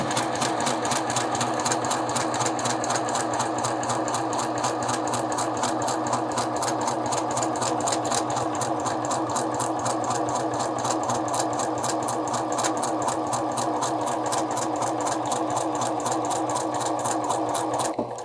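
Sewing machine running steadily and close for the whole stretch, stitching along a marked line on a double welt pocket, with a fast, even needle rhythm and no pauses or talk.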